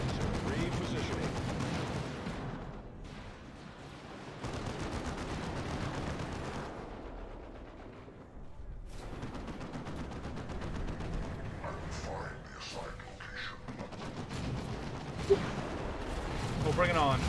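Deployed automated turrets firing in a fantasy-themed video game battle, a steady stream of gunfire-like bursts and booms with game voice lines talking over the noise.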